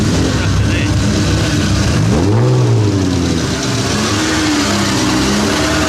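A Bugatti 2.5 liter 8-cylinder car engine revs up and falls back at a concours event, the rising and falling engine note heard near and clear over crowd noise and a commentator talking.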